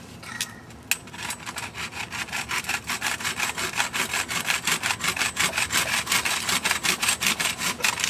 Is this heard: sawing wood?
yes